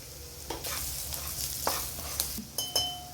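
Onions and chili powder are stirred in a sizzling frying pan, with soft frying hiss under irregular spatula scrapes and knocks against the pan, close and clear with no talk.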